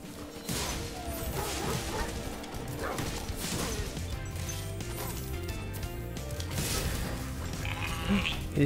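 Sheep bleat in Spyro Reignited Trilogy, wavering baas mixed with crashes and other game effects over continuous background music.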